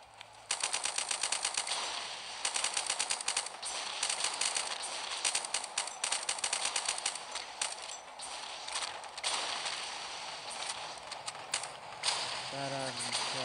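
Rapid automatic gunfire from a LifeAfter 12v12 PvP tower-control battle, loud dense bursts of shots rattling almost continuously for over ten seconds with only brief gaps, over a steady hiss of game ambience.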